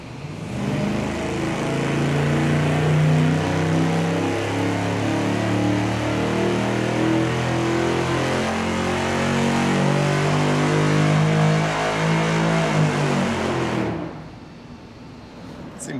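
Engine running on a dyno through cheap $40 Chinese MagnaFlow knockoff mufflers, a loud steady exhaust drone that holds and pulses for about fourteen seconds before cutting off abruptly.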